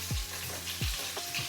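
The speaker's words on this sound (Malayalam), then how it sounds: "സോ ആദ്യം നമുക്ക് സ്പ്രിംഗ് ഒനിയൻ ഇട്ട് കൊടുക്കാം." Chopped spring onions hit hot oil in a pan with a steady loud sizzle and crackle, plus two sharp scraping stirs of a spatula.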